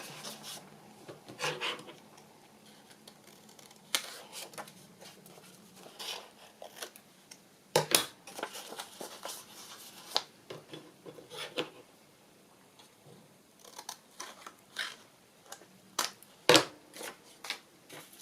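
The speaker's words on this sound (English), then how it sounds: "It'll take a minute just to snip off these corners." Scissors snip the corners off paper pockets made from book pages, giving sparse, close, faint cuts and rustling paper handling with irregular gaps between the snips.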